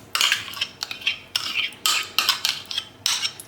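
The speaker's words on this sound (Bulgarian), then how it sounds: "Разбърквам леко и добавям" Baking soda being stirred into 200 grams of yogurt with a small spoon, giving a series of bright, close scraping and clinking strokes against the bowl in an uneven rhythm, with no voices.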